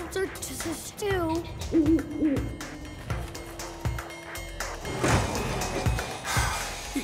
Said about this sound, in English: Hello, Mr. Owl